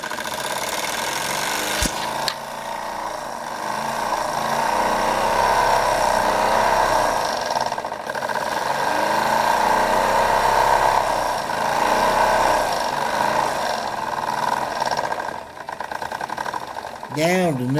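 A Wilesco D22 toy steam engine on its first run chuffs with a fast, steady mechanical rhythm, loud and close for most of the stretch, with a brief dip midway and someone talking now and then.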